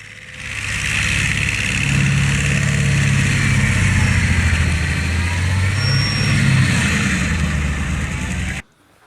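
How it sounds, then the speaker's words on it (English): A tree stump removal machine grinds out a stump on a golf course, producing a loud, steady engine drone with a grinding rumble that holds for about nine seconds before cutting off abruptly. "This tree stump removal system does an impressive and dramatic"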